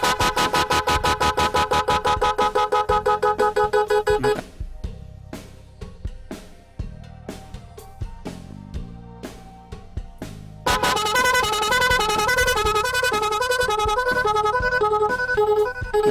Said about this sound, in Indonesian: silakan tekan tombol klakson 3 kali dengan cepat seperti ini.